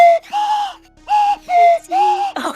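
A slide whistle is blown in four sustained tones, each bending up or down as the slide moves, with short gaps between them and a brief rustle at the end.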